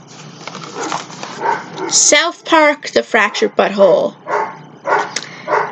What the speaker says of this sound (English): Yeah, and sorry for my dog, too.